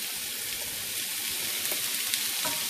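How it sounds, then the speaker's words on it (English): Green pepper and half an onion browning in an enameled cast iron pan, a steady close hiss of frying with a few faint stirring scrapes and no talking. "green pepper and half an onion. And we're going to brown these a minute"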